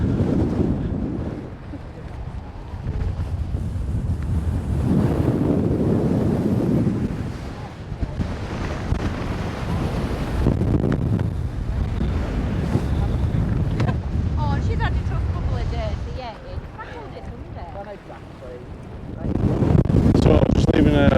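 Strong gusts on the Lord's Seat summit near Whinlatter Forest roar and buffet the microphone in long surging waves, easing briefly between blasts, with faint voices mixed in.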